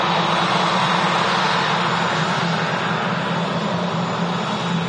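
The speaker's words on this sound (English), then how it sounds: "The aircraft's just completing its pushback." An Emirates Airbus A380 airliner finishes its pushback at Manchester Airport, its engines giving a steady, loud, unbroken hum and rumble with no speech over it.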